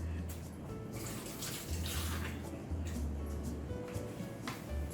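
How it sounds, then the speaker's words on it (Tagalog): Hands being washed under a running kitchen tap while cooking miswa with meatballs: a steady hiss of flowing water with soft splashing, close and continuous for the whole stretch. "Wait lang, hugas lang kamay."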